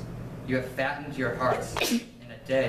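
A single sharp sneeze bursts out partway through a man's spoken sermon reading, brief and fairly close, with his voice continuing around it.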